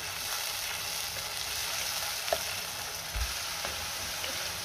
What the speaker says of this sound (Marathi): टोमॅटो आपण कच्चाच वापरलेला आहे, त्यामुळे वाटणाला चांगलं तेल सुटेपर्यंत परतून घ्यायचे।